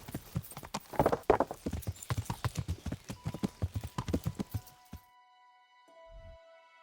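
Horse hooves clip-clop rapidly and steadily in the Kingdom Come video game, a dense run of loud hoof strikes that stops abruptly, leaving a faint tonal game hum and a soft low thud.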